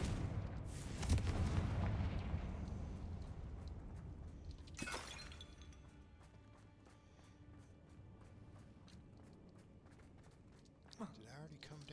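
In the Hogwarts Legacy video game, a Confringo spell bursts into loud blasts and explosions, a heavy crash at the start, then another sharp blast that rumbles away, with a voice speaking over the action.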